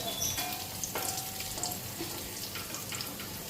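Pieces of spiny gourd fry in a pan at home, giving a soft, steady sizzle with faint clinks and scraping, close but quiet, and no voices.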